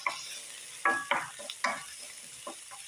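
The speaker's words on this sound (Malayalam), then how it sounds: "തിളച്ച 1 സ്പൂൺ എണ്ണയിലേക്ക് ക്യാരറ്റ്, 2 പച്ചമുളക് അരിഞ്ഞത്, 1 സവാള അരിഞ്ഞതും 1 കഷ്ണം ഇഞ്ചിയും വറ്റൽമുളക് കൂടെ ഇട്ട് വഴറ്റിയെടുക്കാം." Carrot, green chilli, onion, ginger and dried chilli sauté in a spoonful of hot oil, with a soft, steady sizzle broken by several sharp scrapes and clinks of stirring. No one speaks.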